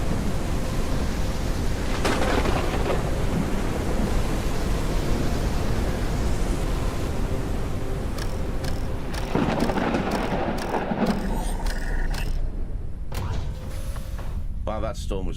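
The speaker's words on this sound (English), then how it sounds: "Wow, that storm was over quick." Thunderstorm in the video game Forever Skies: loud, dense rain-like hiss with rolling thunder rumbles that gradually thin out, the storm fading near the end.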